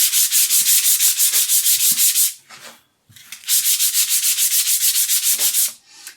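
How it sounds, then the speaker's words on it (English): Fine sandpaper wrapped on a wooden block rubs across traditional lino in quick, rhythmic strokes, close and clear, in two bursts separated by a brief pause. "all I'm going to do is give it a brief sanding"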